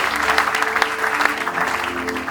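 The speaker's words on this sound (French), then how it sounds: "Est-ce que tu peux acclamer pour la gloire du Seigneur?" A church congregation applauds for the glory of the Lord, steady loud clapping from many hands filling the room, with a faint sustained tone underneath.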